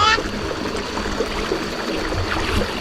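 Floodwater flows and trickles steadily nearby in a rice field, with a louder splash at the start, while people talk over it.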